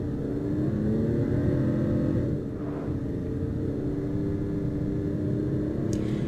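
Car engine in Final Fantasy XV, a steady low rumble with a mild whir, continuous and fairly loud throughout with no distinct revving.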